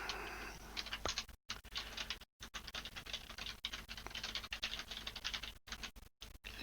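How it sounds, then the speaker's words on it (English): Fingers clatter on a computer keyboard in dense, rapid runs of light clicks with brief pauses, heard up close alone without talk. "my clattering away on the keyboard is picked up by my microphone"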